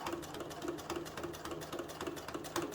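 A sewing machine runs steadily close by, stitching patchwork pieces for a beginner's modern quilt cushion, its rapid needle rhythm continuous and fairly quiet with no talk.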